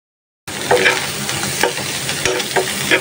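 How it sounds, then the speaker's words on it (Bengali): Noodles cooked with egg sizzle and fry steadily, with scraping stir strokes from a utensil breaking through at a loose rhythm, close and fairly loud after a short silent start. "ডিম দিয়ে শুধু নুডলস রান্না করতেছি"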